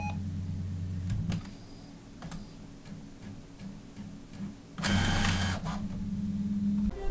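A desktop printer runs with a steady mechanical hum and ticking, loud clattering bursts near the start and again in a longer stretch toward the end, no voices.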